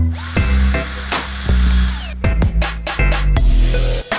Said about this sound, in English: And drill a hole in the middle with 4mm drill bit.